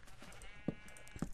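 A sheep in a blocky pixel-style video game bleats twice in short, quiet calls about half a second apart.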